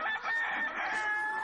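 Chickens cluck and a cockerel crows steadily in a farmyard coop, the calls loud and close with overlapping sustained crowing throughout.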